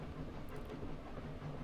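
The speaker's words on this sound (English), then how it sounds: "Oh, it is freight train." A freight train rumbles past in the video game 80 Days, a steady low rolling din with faint clatter and hiss, continuous and fairly quiet with no voices.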